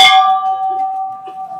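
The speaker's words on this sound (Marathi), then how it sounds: "आता इथे घंटा लावली" A bell hung at the ruined gateway of Arjungad fort, by the temple inside, is struck once and rings out with a bright clang, its metallic tone lingering and slowly fading.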